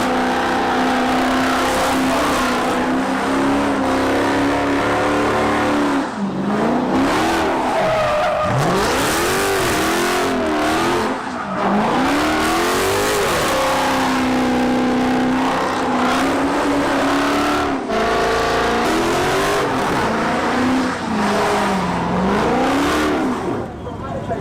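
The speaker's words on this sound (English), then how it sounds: "A loud gold Dodge Charger filming a music video with nonstop burnouts and donuts." A loud gold Dodge Charger does nonstop burnouts and donuts in a lot, tires squealing in long continuous screeches while the engine revs rise and fall throughout, with voices talking underneath.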